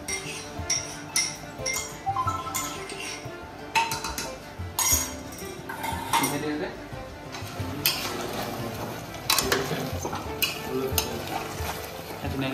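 Pork frying with ginger garlic paste in a pan, with close sizzling under repeated metal clinks and scrapes of a spoon stirring at an irregular pace.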